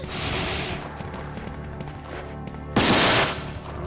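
A weak, slow-firing gun goes off in Resident Evil 2, a single sharp loud shot bursting out near the end over a steady bed of game ambience and background music.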